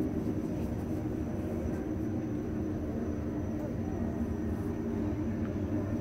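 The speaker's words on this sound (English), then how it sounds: "You hear the airplane?" An airplane flies overhead, producing a steady low droning rumble that stays fairly loud and unbroken for the whole stretch.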